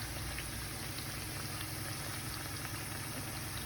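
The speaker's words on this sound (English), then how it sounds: "So while those are frying" Steady, dense sizzle and bubbling of Spanish-style pastelillos (pastries) frying in hot oil, constant and unbroken, with a low hum underneath.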